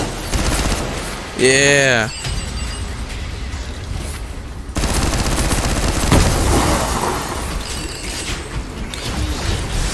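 Level 4 SMG gunfire in the VR shooter Stormland, dense bursts of rapid shots running through most of the stretch alongside game effects, with a short spoken word at one point.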